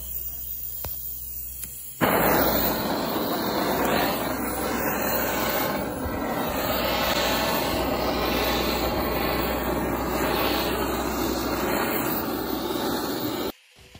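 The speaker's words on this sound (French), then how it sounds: "J'utilise un petit chalumeau à gaz" A small gas blowtorch roars with a steady, close, hissing flame that starts abruptly and holds at an even level for about eleven seconds before cutting off, over faint background hum.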